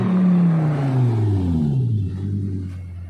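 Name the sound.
Lamborghini Gallardo arriving, engine revving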